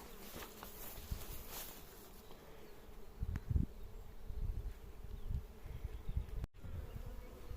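Honeybee colony buzzing at an open hive, a steady close-up drone of many bees with faint handling knocks mixed in, no talk.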